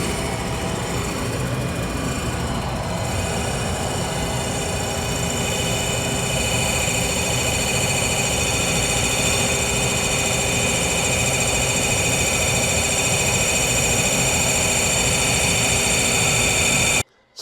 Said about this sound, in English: Even though I've slowed my wheel down and slowed my part down, we're still getting chatter.